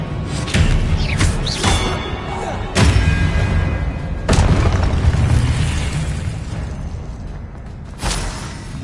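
Confringo explosion spells cast in Hogwarts Legacy on PS5, heard as several loud booming blasts at uneven intervals over a dense, continuous rumble of game sound and effects.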